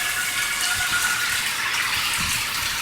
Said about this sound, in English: it started pouring down, raining like it is now, and thundering and lightning